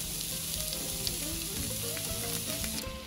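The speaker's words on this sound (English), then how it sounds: "you're going to drop in the shallots on the other side. We're going to add a little bit more avocado oil to it" Shallots fry in avocado oil in a pan with a bright, steady close sizzle and light crackle throughout, no voices.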